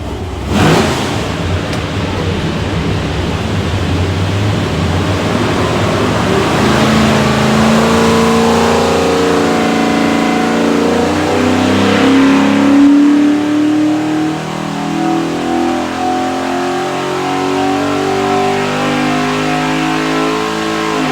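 A 347 stroker V8 in a 1991 Ford Fox Body revs hard on a dyno, the loud engine climbing through a long pull, then easing off and dropping away, with no talk.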